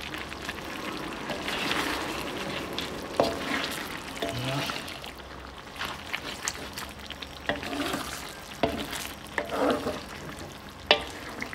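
A spoon stirs Bisaya humba with quail eggs in a hot pan, giving soft scraping and sizzling with occasional sharper clinks against the pan. The stirring is close and moderately loud.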